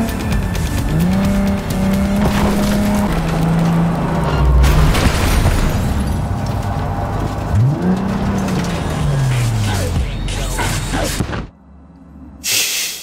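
A car in the video game Cyberpunk 2077 drives hard with a roaring engine, its tires squealing in long pitched skids, before the sound cuts off abruptly near the end.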